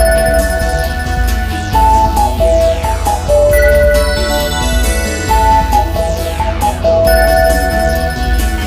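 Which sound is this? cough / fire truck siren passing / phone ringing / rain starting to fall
phone ringing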